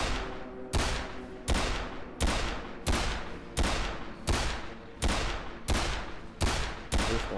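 Revolver shots in a video game: ten loud, sharp bangs fired at a steady pace about three-quarters of a second apart, each with a short decaying tail and no voices over them.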